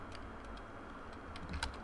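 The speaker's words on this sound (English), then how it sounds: "So it pretends that you're typing, but you actually don't type in the text" Soft, quick key clicks of simulated keyboard typing in the game Emily is Away, a light irregular patter at low level with no voices.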